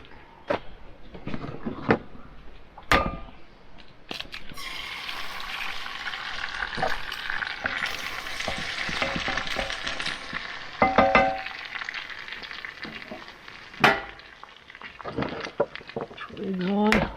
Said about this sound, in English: I'm just going to make some scrambled eggs up